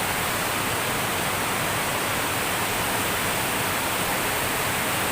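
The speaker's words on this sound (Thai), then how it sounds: "ผมก็ลงมาถึงน้ำตกแล้วนะครับซึ่งสูงมากครับพี่น้องเป็นน้ำตกสองคอนนะครับ" Song Khon waterfall in Pla Ba, Phu Ruea, Loei, a tall cascade, roars as a steady, dense broadband rush of falling water, constant and close with no voices.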